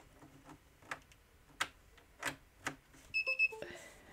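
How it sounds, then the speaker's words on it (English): An Otto DIY robot gives a quick double beep to signal it is connected, two short bright electronic tones near the end after some soft clicks and handling noises. "It double beeps and that says it's connected."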